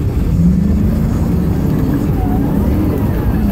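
Land Rover engine rumbling steadily as it backs up in reverse off-road, a continuous low drone throughout with voices talking over it.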